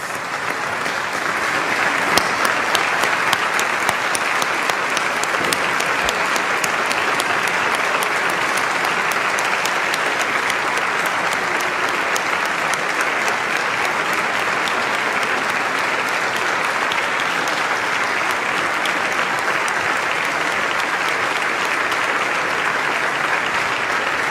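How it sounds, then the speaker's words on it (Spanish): Sustained standing applause from a large audience at the formal opening of a legislative session, a loud, dense, unbroken roar of clapping that holds evenly for over twenty seconds, with no talk over it. "les pido por favor que nos pongamos de pie y brindemos un sostenido aplauso"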